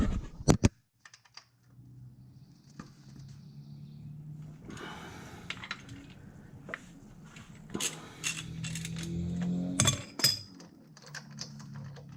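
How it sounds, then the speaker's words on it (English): A ratchet works bolts loose from an aluminum motor mount on an MK7 Audi 8V during a front sway bar install, giving scattered metallic clicks and clinks with a few sharper knocks, fairly close and moderately quiet, no talking. "I'm actually going to take these off with a ratchet"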